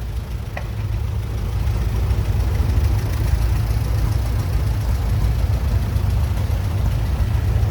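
A 1934 Case Model L antique tractor idles in a parade, its low, steady engine rumble continuous and moderately close throughout.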